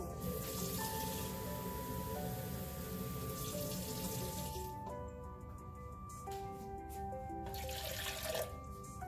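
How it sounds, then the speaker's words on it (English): Running water splashes steadily into a pot, a soft continuous trickle with faint clinks and no talking, as a cup of water is added while cooking malai kofta. "Now I'm going to add 1 cup of water"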